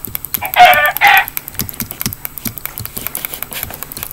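A chicken in a Minecraft-style building game gives two loud squawking clucks, followed by steady rapid clicking and tapping.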